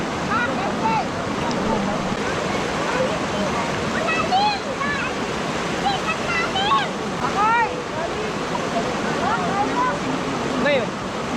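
River water flowing in a steady, broad rush that fills the whole clip, with several people chatting and laughing over it at a riverside meal.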